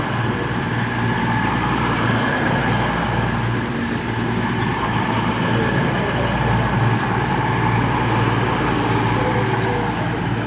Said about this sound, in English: we've got an actual cross-country unit now, heading the other way to Manchester Piccadilly from Bournemouth, and it's 220-032